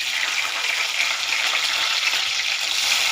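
Cumin seeds and green chillies frying in hot tempering oil, a bright, dense hiss and crackle close up, steady and fairly loud throughout with no talking.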